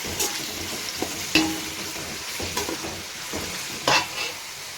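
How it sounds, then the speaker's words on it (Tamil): Salted onions frying in a pan for mutton biryani sizzle steadily while a spoon scrapes and knocks against the pan in uneven bursts, close up and without speech. "உப்பு கொஞ்சம் போட்டு நல்லா வணக்கிக்கலாம்"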